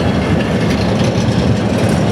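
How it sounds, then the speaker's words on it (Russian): A long freight train hauling many wagons, with coal at the end, rolls by close and loud in a dense, steady rumble with a faint clatter of wheels, nobody speaking. "Везет очень много вагонов, и там в конце уголь."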